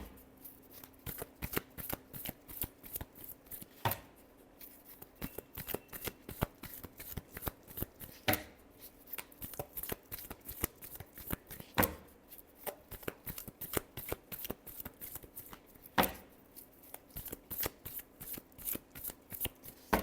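Tarot cards are shuffled by hand in a steady run of soft riffling and light slapping clicks with occasional sharper snaps, close and quiet, continuing without pause and with no talk.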